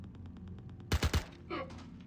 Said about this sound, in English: And we're shooting him in the back.